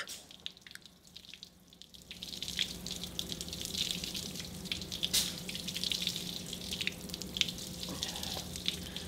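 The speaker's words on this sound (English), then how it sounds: "water's going to start squelching out" Water squeezed from paper pulp in a paper press drips and trickles steadily, with wet squelching and splashing against a constant low hum, close by and without speech.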